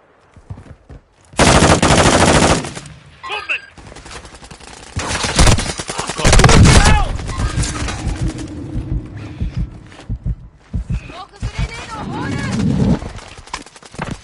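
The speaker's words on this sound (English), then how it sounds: "taking effective fire" Bursts of automatic gunfire in Call of Duty Warzone 2 come in loud sustained volleys separated by quieter gaps, with scattered single shots and in-game voice callouts between them.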